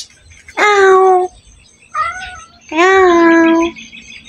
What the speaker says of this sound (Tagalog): Saan kaya itong pusa na ito? Ang aga-aga nandito sa amin, no?